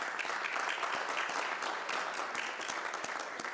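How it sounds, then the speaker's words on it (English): Applause for the SEPTA transportation agency at a public event, a moderate, fairly distant wash of clapping from a crowd, steady for a few seconds. "Give them a round of applause for being here today as well."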